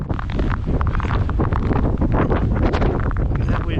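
Strong, gusty wind during an Alaska windstorm roars and buffets the microphone loudly and continuously, with a dense broadband rush and no let-up.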